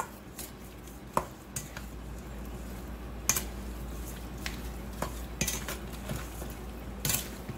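A spoon tosses roasted cherry tomato sauce ingredients in a bowl: quiet scraping and stirring with scattered sharp clinks of metal against the dish.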